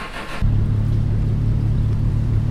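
An old car engine in the Mon Bazou video game starts and settles into a steady low idle rumble, quiet and even, after a brief burst of noise at the start.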